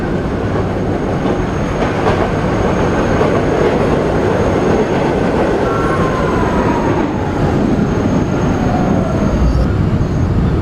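A PST-2R (B) subway train in a video game runs between Rentar Plaza and Expo Center, a loud continuous rolling rumble with faint wheel squeal and light clatter heard from inside the cab.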